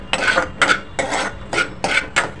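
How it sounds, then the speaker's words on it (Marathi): Cashews and almonds are stirred while they roast in a pan, with about six rhythmic scraping sweeps of a utensil against the metal, close and fairly loud. "काजू बदाम छानपैकी परतून झालेले आहेत"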